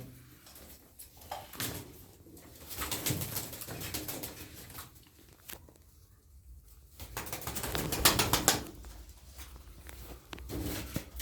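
A flock of racing pigeons coos and shuffles close by, with soft wing flutters and rustling rising and falling throughout.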